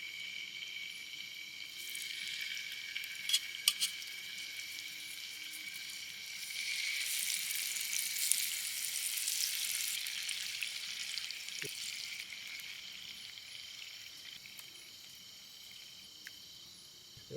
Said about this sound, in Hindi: देखो भाई काफ़ी देर से चिकन मैरिनेट करके रखा था, ऐसे है। अब इसको पकाना स्टार्ट करेंगे।